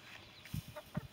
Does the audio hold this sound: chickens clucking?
yes